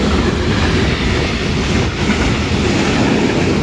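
A train in Germany passes close by with a loud, continuous roar of wheels on rails, a dense steady rumble that holds at full volume throughout.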